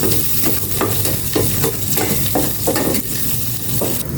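Pork sizzles loudly in a pan as a utensil scrapes and stirs in a steady rhythm, about twice a second, over the continuous frying hiss.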